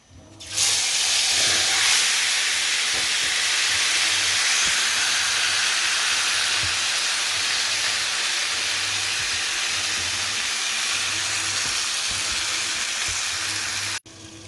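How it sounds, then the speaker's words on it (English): Seasoned pork searing in a very hot oiled pot for a Jamaican-style pot roast, a loud, steady sizzle and hiss that starts abruptly and holds for about thirteen seconds before cutting off, with no talking. "time to put in my seasoned pork"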